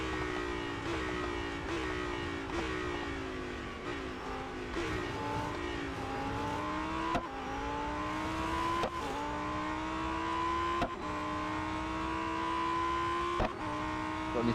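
A Lamborghini Huracan STO in the Real Racing 3 game howls continuously, rising through the revs and dropping with each gear shift while racing around a track, loud and sustained.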